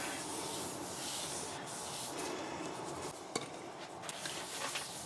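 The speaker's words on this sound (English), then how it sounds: "I'm about to put some sanding sealer on it." A steady soft rubbing hiss as a cloth works sanding sealer onto a spinning maple burl on a lathe, continuous and close, with a few faint ticks.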